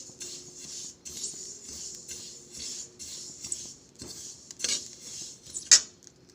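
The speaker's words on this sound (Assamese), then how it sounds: "তিলখিনি ভাজি লৈছোঁ।" Sesame seeds roasting in a pan are stirred in quiet, regular passes, each one a soft scrape and clink of a utensil against metal, with a few sharper knocks near the end.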